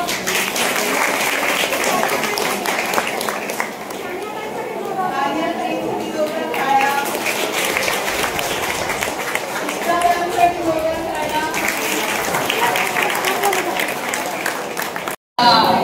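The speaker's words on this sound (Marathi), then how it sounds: "ज्यांनी बनवली चार्ट त्यांच्यासाठी जोरदार टाळ्या" Schoolchildren at a nutrition fair in a village high school clap for the classmates who made a chart, sustained crowd applause blended with voices and chatter, continuing for several seconds before a brief cut near the end.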